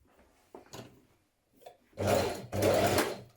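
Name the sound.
sewing machine stitching bodice shoulder seam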